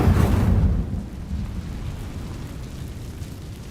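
Incendio fire spell cast in Hogwarts Legacy: a loud, deep whooshing burst in the opening second, then falling into a low rumbling crackle that lingers steadily to the end, no voices.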